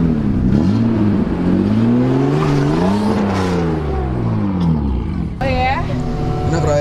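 Toyota Cressida engine revving hard as the car accelerates, a loud, sustained rising and falling drone with shifting pitch, close up, with voices talking over it.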